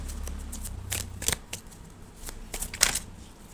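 Cards from a Sun tarot deck being shuffled up close, with several quick riffling bursts and crisp slaps spread across a few seconds, fairly quiet with no talk.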